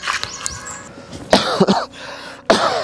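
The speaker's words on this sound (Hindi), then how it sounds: "पता नहीं कब इस खांसी से छुटकारा मिलेगा" A person coughs several times in quick harsh bursts, close by, with brief pauses and a faint hum in the background.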